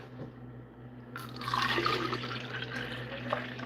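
Tamarind juice poured into a container in a home kitchen: quiet at first, then a sudden splashing, gurgling stream of liquid that runs steadily for a couple of seconds, close by.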